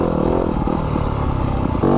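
A 2020 Yamaha YZ250 FX dirt bike on mountain single track, its engine close and loud, idling low and burbling, then revving up briefly at the end.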